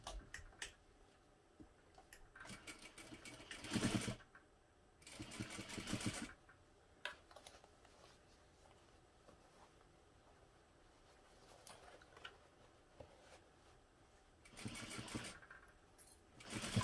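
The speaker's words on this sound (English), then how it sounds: "Now I'm going to sew this together, again using half inch seam allowance." Sewing machine stitching the seam of a crossbody bag, heard in three short bursts spread across an otherwise quiet stretch, moderately close and with no talk.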